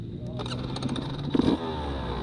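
A Beta 200 RR dirt bike fires up on its electric starter at an off-road demo day at Durhamtown, with a brief crank and catch followed by a short rev, close and loud.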